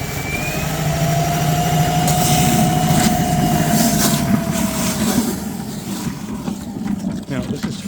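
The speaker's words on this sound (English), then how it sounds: "turn it on here on the control on low. All right, low's pretty good, right? Look at that. Let's do high. And let's do turbo." An EGO 56V cordless wet/dry vac with a 9-gallon tank running at full turbo, a loud steady motor whine and rushing air that eases toward the end as a voice talks nearby.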